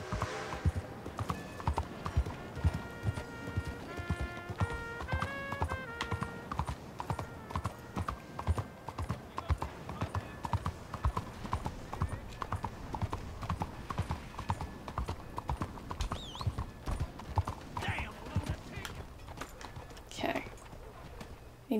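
A horse's hooves clip-clop in a steady, close walking rhythm in the video game Red Dead Redemption 2, continuing for the whole stretch with music and someone talking at times over them.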